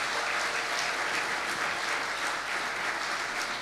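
Congregation applause during a church sermon: a dense, continuous wash of many people clapping together, close and fairly loud, holding steady throughout with no talking over it.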